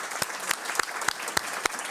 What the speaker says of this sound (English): Can I please get a warm round of applause?